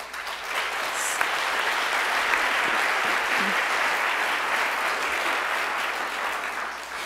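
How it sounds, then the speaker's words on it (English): Sustained applause from the audience at a literary awards ceremony, a broad, even wash of many hands clapping from a distance, steady throughout without talk over it. "Will you stand up for some applause?"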